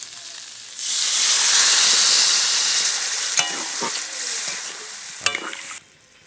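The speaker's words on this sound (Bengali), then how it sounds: "মশলাগুলো দিয়ে ভালো করে আমি কিছুক্ষণ কষিয়ে নিয়েছি, এবার আমি পরিমাণ মতন জল দিয়ে দেবো।" Water is poured into fried spice masala for a kuche fish curry, setting off a loud, sustained sizzle that swells abruptly and fades slowly, with a couple of sharp stirring clinks near the end before it cuts off.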